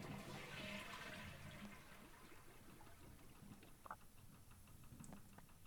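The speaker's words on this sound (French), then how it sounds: "C'est une chasse d'eau." A watery rush swells at the start and fades into a soft gurgling trickle, a toilet flushing and refilling in the video game Botany Manor, heard alone at moderate volume.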